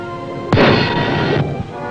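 A World War II submarine fires a torpedo electrically during a documentary sequence: a sudden loud launch burst followed by a sustained rushing hiss for about a second, then a lower rumble trailing off.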